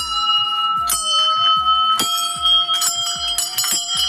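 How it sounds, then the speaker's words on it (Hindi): Village temple bells ring out repeatedly, bright metallic strikes overlapping in an irregular rhythm, their long shimmering tones sustaining and layering together. "ये घंटियाँ, इसकी आवाज़ें कानों को सुख पहुंचाती हैं,"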